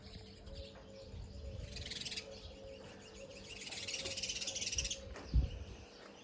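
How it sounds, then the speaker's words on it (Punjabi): Sparrows chirping outdoors on a cool morning, a steady scatter of small bright chirps over a continuous insect-like buzz, fairly faint and distant, with one brief louder thump near the end. "ਚਿੜੀਆਂ ਦੀ ਆਵਾਜ਼"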